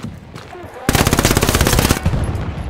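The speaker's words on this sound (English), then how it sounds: "I hear gunshots, buddy." A rapid machine-gun burst rattles out at close range in the World War II shooter game Hell Let Loose, about a second of dense automatic fire amid quieter background battle noise.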